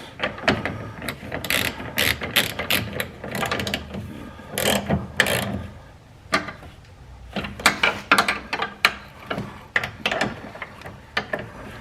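Ratchet wrench snugging up bolts on a Honda K20 turbo all-wheel-drive build, heard as repeated bursts of fast clicking, close and fairly loud, with brief pauses between strokes and no talking.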